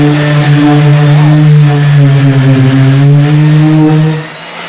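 Craftsman orbital sander running on cured epoxy resin, a loud steady motor hum with a strong tonal whine held close for several seconds before cutting off abruptly near the end.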